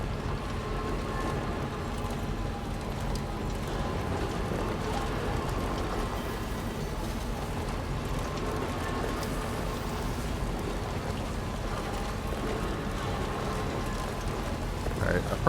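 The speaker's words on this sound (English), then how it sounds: "There we go, back in the rain." Steady, dense patter of rain in the video game Death Stranding 2, falling without pause, an even wash of sound throughout.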